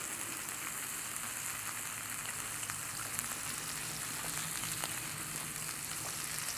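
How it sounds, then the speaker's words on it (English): Soft, steady sizzling of steak and asparagus cooking in a hot outdoor pizza oven fed hickory wood pellets, a faint continuous crackle heard from a distance with scattered pops and no voices. "we're getting some sizzle"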